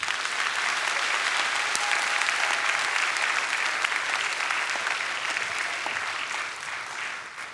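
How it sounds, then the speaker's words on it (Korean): A roomful of teachers at a retreat claps for a presenter stepping up to share a case study, a sustained, dense patter of many hands that stays loud and even before easing slightly at the close. "나오실 때 박수 한번 쳐주시면 좀"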